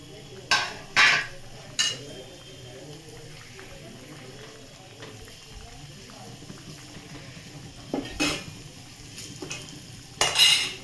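Hot tempering oil poured over soybean butter masala garnished with coriander, giving short bursts of sizzle among clinks of utensils against a pot, separated by quieter stretches of stirring.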